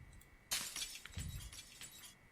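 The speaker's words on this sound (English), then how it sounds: "They heard me removing the broken glass" In the Project Zomboid video game, broken glass is cleared from a window as a short, quiet crunch and clatter of shards that tails off into faint scattered tinkles, with no voices.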